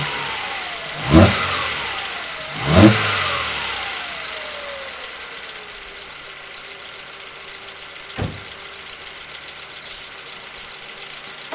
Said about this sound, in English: I'll give it a quick rev